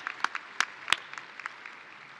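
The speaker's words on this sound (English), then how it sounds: "Let's give you a warm round of applause for all our distinguished guests." Applause at a high school graduation ceremony: a handful of sharp, distinct claps near the start, then thinning into scattered, fading clapping from the audience.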